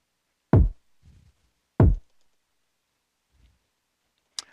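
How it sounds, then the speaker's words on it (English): Two punchy, deep kick drum hits about a second and a half apart in a sparse beat, each followed by a soft low thump, then quiet with a faint click at the end. "Laid that bad boy with a kick"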